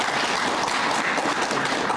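Applause from an audience at the opening of a national inter-city art exchange exhibition at Cheonan Arts Center, a steady dense wash of clapping lasting about two seconds at moderate level with no talk.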